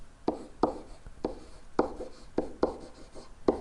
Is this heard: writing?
yes